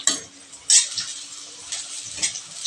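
Chopped onion drops into oil already holding a bay leaf and two cardamom pods, with a soft sizzle under sharp spoon clinks and scraping stirs against the pan.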